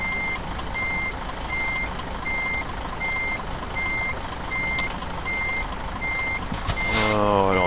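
Truck reversing beeps in Euro Truck Simulator 2: a steady, evenly spaced series of loud electronic beeps over a low engine rumble, ending with a brief burst of air hiss.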